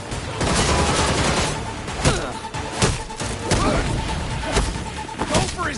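Gunfire in the Gotham Knights video game, a run of sharp shots and impacts over busy combat noise, with a voice talking over parts of it.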